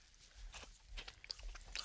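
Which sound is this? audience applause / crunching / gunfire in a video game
crunching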